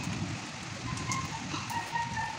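Heavy rain falls steadily in a dense, broadband hiss with scattered drop impacts, close and continuous throughout, with no voices.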